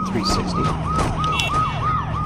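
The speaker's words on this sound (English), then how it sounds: "Oh, there's an ambulance." An ambulance siren wails in the Saints Row video game, a fast, repeating rising-and-falling yelp over loud street and engine noise, sustained and close throughout.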